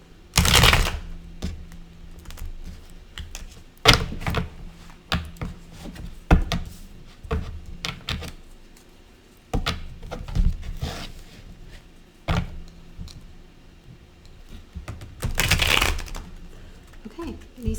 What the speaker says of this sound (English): Okay, these cards do not want to shuffle today.